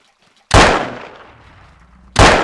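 Two loud gunshots from the video game Trespasser crack out about a second and a half apart, the first ringing off in a long fading echo before the second hits.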